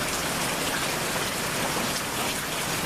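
Steady outdoor rain falls on the ground and surroundings, a dense, even hiss of drops without pause, close and fairly quiet, no voices.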